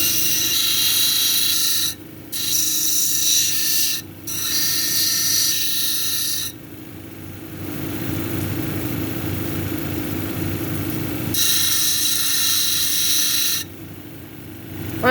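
Coarse 80 grit wheel grinding a leopard skin jasper cabochon, a steady loud hiss with gritty mechanical rumble that cuts out briefly a few times as the stone lifts off and returns, motor running throughout.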